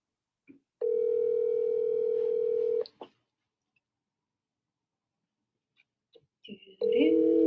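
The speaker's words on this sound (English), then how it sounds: "Okay, so let's give Jesse a call" A telephone ringing tone sounds as a call is placed, with a steady two-second tone that stops and then returns after a pause, alongside brief clicks and faint background voices.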